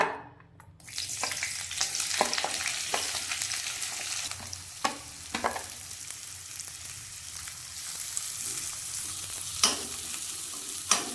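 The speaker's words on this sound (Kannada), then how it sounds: "ತುಪ್ಪ ಪೊರ್ಲುಡು ಕಾಯ್ದಂಡು ಇತ್ತೆ ಫಸ್ಟ್ ನಮ್ಮ ಆನಿಯನ್ ಪಾಡುಂಗ" Onions hit hot ghee and fry with a loud, constant sizzle, punctuated by sharp spatula scrapes and taps as they are stirred close up, with no speech.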